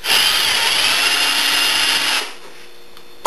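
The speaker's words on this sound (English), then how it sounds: "I've got an eighth inch drill now, and you want to let your drill just kind of follow that hole through." An electric drill with an eighth-inch bit enlarges a hole while building a soap mold. It whirs loudly and steadily for about two seconds, then winds down, with a brief clatter at the end.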